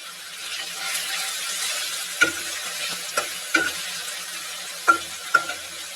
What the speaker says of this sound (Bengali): এবার নাড়তে থাকি। এবার টমেটো কুচি দিয়ে নিই।